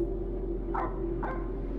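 Two short, faint barks or yips from a dog in the Supernatural horror video game, spaced about half a second apart over a steady low hum, with no talk.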